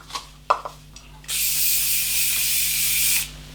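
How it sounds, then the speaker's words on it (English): A steady aerosol hiss of fixative sprays for about two seconds onto a soft pastel drawing on paper, following a few soft taps and clicks. "All you need to do is just to give it a few light sprays, and that should be enough"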